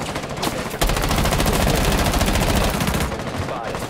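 Rapid automatic gunfire from a shooting video game, a sustained loud burst of about two seconds that fills the middle of the clip, with shorter shots before and after and faint voices under the noise.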